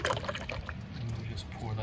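CVT fluid pours steadily through a funnel into a Honda HR-V transmission in a continuous gurgling trickle, close by, with a voice talking over it.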